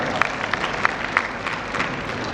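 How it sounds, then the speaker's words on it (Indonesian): Audience applause for a campus presentation: a room full of people clapping steadily at close range, an even patter with a few sharper individual claps standing out. "Tepuk tangan buat Eduvecta."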